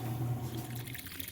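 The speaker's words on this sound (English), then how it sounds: "this will take about 3 minutes to spin out the water" Water drains steadily out of a washing machine on a high spin cycle, a continuous close rushing, gurgling flow with a low humming rumble underneath.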